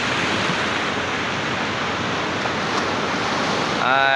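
Sea waves at Lhoknga beach in Aceh wash in as a continuous broadband surf roar, steady and fairly loud, with some wind.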